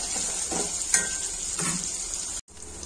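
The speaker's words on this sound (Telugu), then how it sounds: "జీలకర్ర, ఆవాలు, ఉల్లిగడ్డ మనకు చక్కగా ఫ్రై అయిపోయి ఆయిల్ లో" Cumin, mustard seeds, onions and curry leaves fry in hot oil with a continuous close sizzle, broken by a few soft stirring scrapes and a brief dropout near the end.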